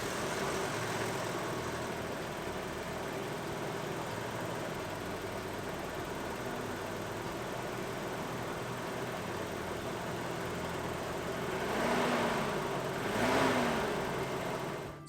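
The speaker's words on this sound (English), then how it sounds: "It's our first startup after the tune-up, and hopefully, I hope everything's good." A Toyota truck engine runs at a steady idle after a tune-up, a constant low rumble heard close by. Toward the end it gives two brief revs that rise and fall before it settles again.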